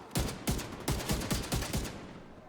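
Vindicator rifle firing in The Division 2, a run of six evenly spaced, punchy shots at a steady moderate rate, each with a sharp crack and short decaying tail, loud and close with no talking.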